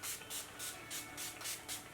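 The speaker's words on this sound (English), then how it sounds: "we're going to go ahead and spray and set that and lock that in as well" Setting spray mists onto a made-up face in a quick series of about seven soft, close hisses, evenly spaced, with no talking.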